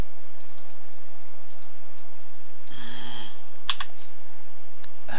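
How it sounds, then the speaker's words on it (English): Computer keyboard typing at a desk with several keyboards and a laptop, a short burst of quick, close keystrokes and a few isolated clicks against a quiet background. "I've just hit the wrong keyboard again"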